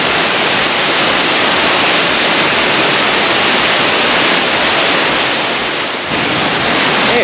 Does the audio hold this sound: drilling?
no